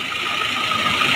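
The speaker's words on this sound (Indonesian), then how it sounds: "mesin halus" A 2001 Daihatsu Taruna engine idles smoothly, a steady even mechanical hum and light ticking heard up close with no talk.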